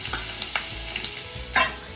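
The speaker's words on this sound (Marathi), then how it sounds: "लसणीची फोडणी द्यायची." Garlic tempering sizzles in a hot kadhai that has been heating for a long while, a steady close frying hiss broken by several scraping stirs of a spoon against the pan.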